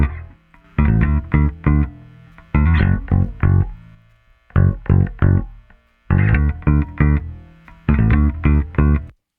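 A bass part runs through a heavily driven 1176 compressor on the Dr. Pepper setting, playing loud, punchy phrases of plucked notes separated by short gaps, with some amp hum and background noise between the phrases.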